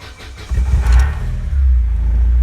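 A 1991 Vauxhall Nova GSi 1.6 8V is cold-started after sitting with an empty tank: a brief crank catches and the engine fires into a loud, close, steady idle.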